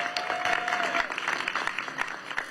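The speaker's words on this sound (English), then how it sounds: "So yes, another round of applause." An audience at an outdoor Las Vegas downtown event for the U.S. Capitol Christmas Tree breaks into applause, a dense and fairly loud burst of clapping from a gathered crowd, with a faint tone running under it.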